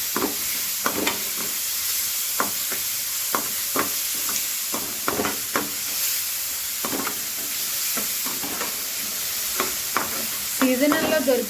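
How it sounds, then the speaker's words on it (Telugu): Grated raw mango fries in a pan for summer mango pulihora, a steady sizzle broken by repeated scraping stir strokes at an even rhythm, close and moderately loud with no talk. "ఇది మంచిగా ఫ్రై అయ్యే వరకు ఫ్రై చేయాలి."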